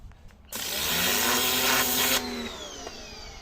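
An Aldi Ferrex 2.4 kW pressure washer with a turbo nozzle blasts weeds out of a corner, a loud steady hissing roar of water spray starting abruptly and running for nearly two seconds before cutting back.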